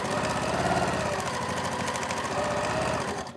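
Sewing machine running steadily along a seam of a Christmas wall hanging quilt, a continuous loud mechanical whir with fast regular needle clatter throughout.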